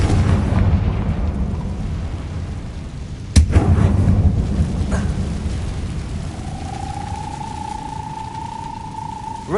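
Confringo fire spell blasting in Hogwarts Legacy: one sharp, loud explosive crack at about three seconds over a rumbling background, followed later by a steady rising whine.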